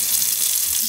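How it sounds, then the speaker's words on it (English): Water runs steadily from a tap into a newly installed kitchen sink, a constant broadband rush that stays loud and unbroken, with no talking. "Run the water again."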